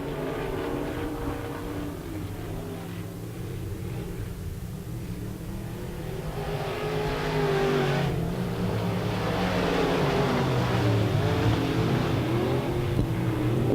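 IMCA modified race cars battle on RPM Speedway, a steady roar of several engines that swells louder about halfway through as the pack passes closer.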